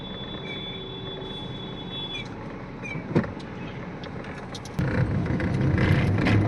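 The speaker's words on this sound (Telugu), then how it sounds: "బస్సులు కూడా చూడండి స్లోగా ఎక్కుతా ఉన్నాయి కొండ మీద నుంచి" Buses slowly climbing a hill road near Srisailam produce a steady, moderately distant engine rumble that grows noticeably louder and heavier toward the end, with no talking.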